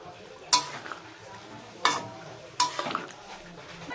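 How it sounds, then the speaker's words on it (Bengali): Fried paneer is added to a simmering curry in a pan, with three sharp metallic clanks of a spoon against the pan and soft stirring in between. "এবার ভেজে রাখা পনিরগুলো দিয়ে দেবো।"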